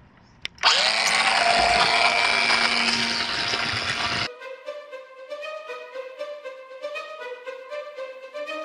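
A loud, steady motorized whir from a Pool Blaster Pulse battery-operated pool and spa vacuum runs for several seconds, then cuts off abruptly, leaving quieter tonal background sound.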